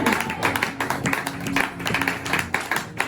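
A church congregation claps in acclamation of Jesus at a covenant seminar, a quick burst of rhythmic, fairly close hand claps and taps with a few voices mixed in.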